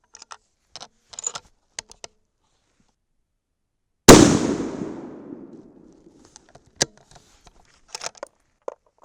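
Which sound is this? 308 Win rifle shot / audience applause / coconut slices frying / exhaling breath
308 Win rifle shot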